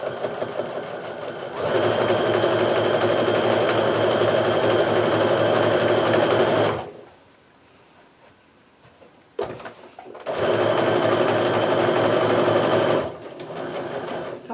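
A sewing machine stitches Kaffe Fassett jelly roll quilt pieces in two steady, loud bursts, with a quiet pause between them while the work is repositioned.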